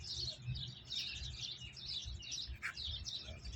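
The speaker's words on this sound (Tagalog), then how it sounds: "Daming ibon oh." A flock of birds in park trees chirps in quick, repeated high-pitched bursts, a busy, faint chorus over low background rumble without talk.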